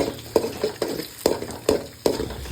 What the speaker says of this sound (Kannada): ಮೊಟ್ಟೆ ಬೇಯುವ ತನಕ ಚೆನ್ನಾಗಿ ಫ್ರೈ ಮಾಡಿ